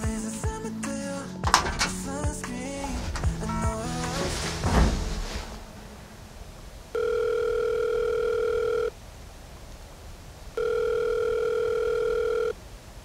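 Telephone call ringing tone: two long steady electronic tone bursts, each about two seconds long with a pause between, clear and close, following a stretch of clattering noise and music.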